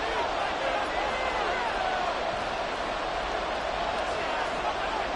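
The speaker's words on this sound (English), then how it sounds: "The Arrowhead crowd in full roar." A stadium crowd roars steadily at Arrowhead in an American football video game, a dense, continuous wash of cheering that stays loud and even throughout.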